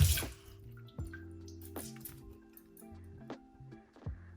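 Warm water runs and drips while a microfiber makeup eraser cloth is washed by hand, giving soft intermittent splashes and squishes with a few sharper drips, fairly quiet and close, no talking.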